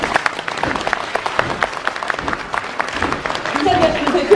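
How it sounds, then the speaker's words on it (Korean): At a university graduation ceremony, the audience claps steadily as graduates enter: many distinct, fairly close handclaps in an even, continuous patter that swells slightly toward the end. "늠름하게 입장하고 있는 우리 학생들 여러분들을 위해서 우리 뜨거운 박수 부탁드립니다."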